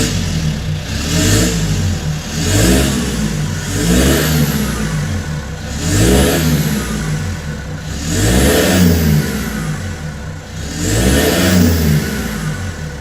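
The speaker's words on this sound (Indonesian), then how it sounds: "Nah itu untuk suara gas setengah ya." Repeated throttle blips from a Mitsubishi Pajero Dakar at about half throttle, around 2500 RPM: five or six rising revs that fall back to idle in a steady rhythm, loud and close, with a faint whine above each rev.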